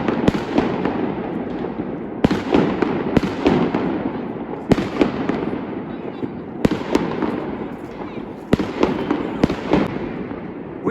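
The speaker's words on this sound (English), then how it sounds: "We got fireworks after all." Fireworks burst repeatedly at a New Year's celebration in Moscow, sharp cracks and booms every second or so, over a continuous wash of crowd noise and cheering.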